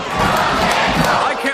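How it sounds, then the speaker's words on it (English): A packed crowd at the IWC Night of Legends 2011 wrestling event in Franklin roars and cheers in a dense, loud, continuous wall of shouting voices. "I can't remember the last time I've heard a Franklin crowd like this"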